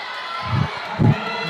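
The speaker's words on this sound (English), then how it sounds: "The crowd is angsty right now." A crowd at a high school volleyball playoff game between Eustace and White Oak lets out two short bursts of cheering and shouting, the second louder, over steady gym noise.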